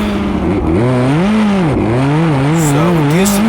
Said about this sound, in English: So we do some victory donuts.